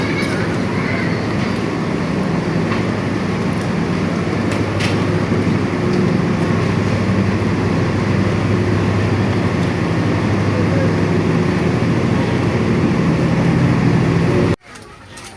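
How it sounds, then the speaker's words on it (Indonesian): Interior of an economy-class carriage on the KA Airlangga train between Semarang and Cepu, a steady loud rumble of wheels and carriage noise that runs continuously and drops away abruptly near the end. "Dan ini sudah di dalam gerbong kereta Erlangga kelas ekonomi."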